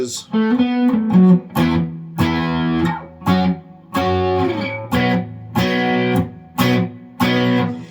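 Distorted electric guitar playing a run of chords in steady, punchy bursts with brief gaps between strums.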